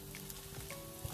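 Bok choy sizzles in a hot wok for village-style nasi goreng belacan, a steady broadband hiss with a few soft stirring knocks and no talking.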